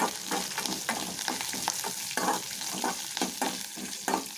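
Dried red chillies sautéing in hot oil, with a bright crackling sizzle under repeated scraping strokes of a spatula stirring them through the pan, close and continuous.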